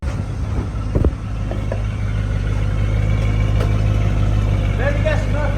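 A 1979 Lincoln engine idles through its newly fitted exhaust pipe with a steady, deep rumble close by, after a few knocks near the start. A voice talks over it.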